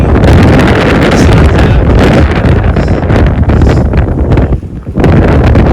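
Heavy wind buffets the microphone on an Appalachian Trail hike, a loud, continuous roaring rumble that barely eases near the end, with no talk.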